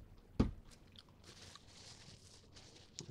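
A single sharp crunchy bite into a fried chicken wing, followed by quiet faint chewing noises.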